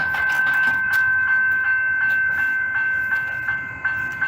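Comeng electric train in EDI livery passing close by with a loud, steady rolling roar and a sustained high electric whine, with faint rhythmic clicks of wheels over rail joints.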